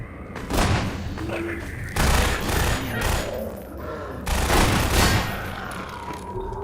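Shotgun blasts in the video game Half-Life 2, three loud heavy booms spaced about two seconds apart, each with a rolling tail, close and dominant.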